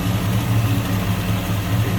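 A 1970 Chevrolet Chevelle SS tribute idles with the hood open after coming off high idle, a steady low rumbling engine pulse, close and even, with no talking over it.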